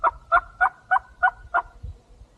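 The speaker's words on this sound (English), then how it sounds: "By hearing the gobbles, we estimated this tom to be 100, maybe 150 yards away" A wild turkey tom gobbles six times in a steady rapid series, distant but clear over open country, roughly 100 to 150 yards off, with a faint low thump after the last call.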